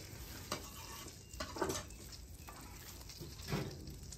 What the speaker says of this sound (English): we're just gonna add a stick of butter, three cloves of garlic, chopped, sliced, and finely diced.